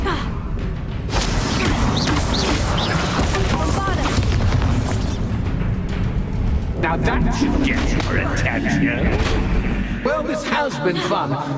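Bombarda explosion spells in Hogwarts Legacy, heavy booming blasts rolling through a dense, continuous din of magical combat while a player talks throughout.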